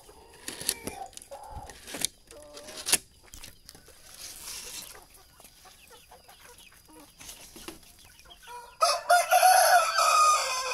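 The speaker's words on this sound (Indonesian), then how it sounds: "Cuma yang disimpan di sini ini jagonya" A young rooster from a broiler and kampung crossbreed crows loudly and close by near the end, after quieter scattered clucks and farmyard noises.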